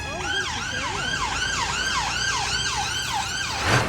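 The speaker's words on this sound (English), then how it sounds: "Police or ambulance sirens." Wailing emergency siren on a central London street near Nelson's Column and the National Gallery, its rising and falling sweeps repeating steadily over traffic rumble, loud and fairly close throughout.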